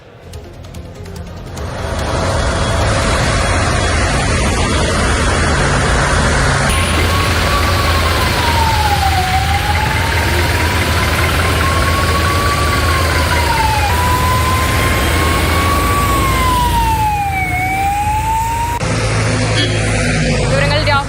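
An ambulance siren wails in rising and falling sweeps while stuck in a heavy traffic jam on the national highway at Vengalam, Kozhikode. It sounds loud over a constant rumble of idling traffic, with voices talking alongside.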